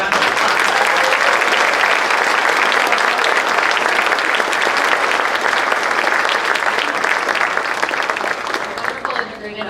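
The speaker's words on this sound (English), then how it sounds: "I do believe they need one more large round of applause" Large round of applause from an audience at an evening awards-style stage event, steady dense clapping throughout that fades slightly toward the end.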